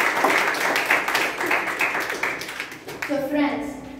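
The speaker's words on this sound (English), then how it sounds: "Can we all give him a huge round of applause?" Audience clapping in a meeting hall, a dense patter of applause that fades toward the end as a voice begins speaking.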